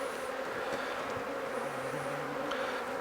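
Honey bees swarm loudly around a hive as a nucleus colony is moved into a full hive, their steady dense buzz filling the air close by with a few individual bees droning past.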